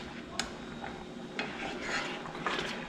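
Grits cooking in a pot, a utensil scraping and clinking against the pot sides in a few separate strokes over a soft bubbling bed, close and fairly quiet with no voices.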